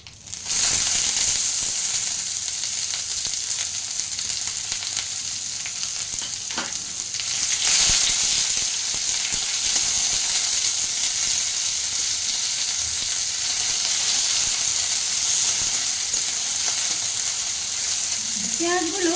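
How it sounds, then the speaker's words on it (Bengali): Onions sizzle loudly in hot oil in a pan with a bay leaf, stirred now and then, a constant bright hiss of frying running the whole time. "পেঁয়াজগুলো জাস্ট একটু নাড়িয়ে নেব 2-3 মিনিট।"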